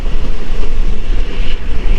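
A DEMU special train rumbles steadily on the way to Changrabandha, a loud continuous low roar with some wind buffeting and no voices.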